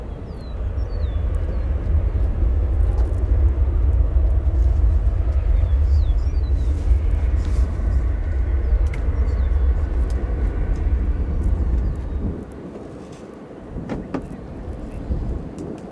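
A Lufthansa Airbus A330 arriving from Frankfurt at O'Hare Airport produces a loud, deep, continuous jet roar that dominates for about twelve seconds before easing off, with faint birdsong in the background.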